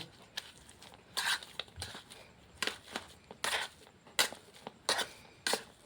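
Boiled potatoes being mashed by hand, with soft squelching crushes and taps coming in irregular bursts, close and moderately loud, with no talk.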